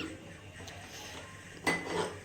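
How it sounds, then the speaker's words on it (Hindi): Brass kadhai cooking pot set onto a stove beside a pot of cooking rice, with a soft scrape, then a sharp metallic clank and a brief ringing rattle near the end. "तब तक हम इधर कढ़ाई चढ़ाते हैं"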